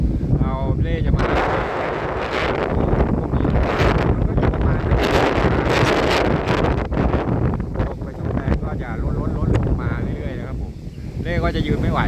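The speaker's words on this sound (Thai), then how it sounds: "ลมค่อนข้างจะแรงครับผม" Strong, gusty wind blasts against the microphone outdoors during a widespread windstorm, roaring in loud surges and buffets throughout while someone talks over it.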